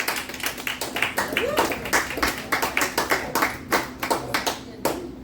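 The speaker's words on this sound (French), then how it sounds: "Donne un applaudissement pour Thomas." A cabaret audience claps for a performer, producing a steady run of distinct, fairly close handclaps that keep a loose rhythm for several seconds, with some talking mixed in.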